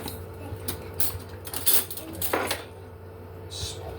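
A large metal spoon clatters against a brewing pot during a cyser brew day, a few sharp knocks and scrapes heard up close over a steady low hum.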